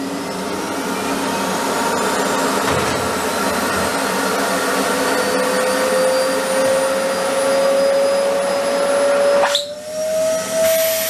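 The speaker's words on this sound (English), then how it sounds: "Hoover on." Hoover vacuum cleaner switched on to power a DIY vacuum forming box, a loud steady whine close by that rises slightly in pitch as suction builds, with a short disturbance near the end.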